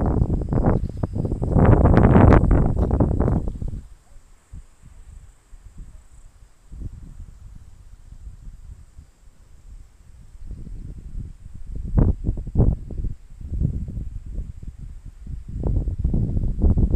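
Wind gusts through tree leaves beside a crop field in a village, coming in loud rustling surges that fade to quieter stretches and then build again, with a faint steady insect-like hiss above.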